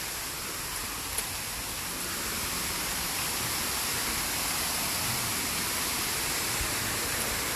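Steady, dense rushing roar of a large man-made waterfall, constant and broadband with no pauses, heard alone without voices.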